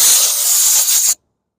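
Surface prep spray hisses from an aerosol can onto a Mercedes S-Class wheel rim during repair, a loud, steady close-up spray for just over a second that cuts off abruptly into silence.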